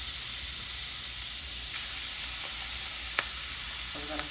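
Cajun-marinated shrimp sizzling steadily in a hot pan, a loud continuous frying hiss with a few faint clinks of stirring, no voices.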